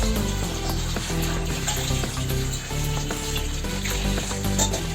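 Bread fries in butter in a pan, giving a steady, close sizzle with occasional light scraping or stirring noises throughout. No voices are heard.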